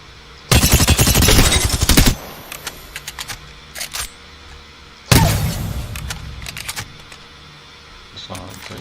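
A Vault SMG fires rapid full-auto bursts in a video game, two long loud strings of shots separated by scattered single clicks and handling noises.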